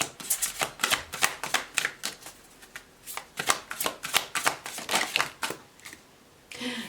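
Tarot cards riffle and slap in repeated quick bursts of crisp, papery shuffling, close and moderately loud, with short gaps between the bursts and no talking over them.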